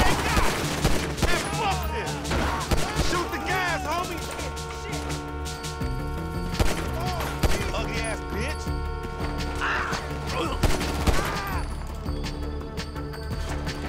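Rapid gunfire crackles in GTA V, repeated sharp shots and bursts in an ongoing firefight under game sound, while players talk over the shooting.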